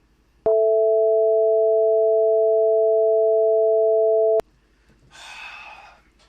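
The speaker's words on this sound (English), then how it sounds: "now let's listen to a just fifth" A just-tuned fifth played as two steady pure tones together for about four seconds, loud and unwavering, then cut off sharply, followed by a short breathy noise.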